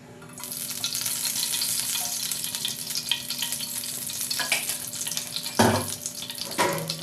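Oil sizzles steadily in a frying pan with an egg for a Bengali egg and prawn snack, a constant close hiss with a couple of sharper bursts and clatters near the end.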